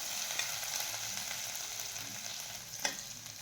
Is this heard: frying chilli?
yes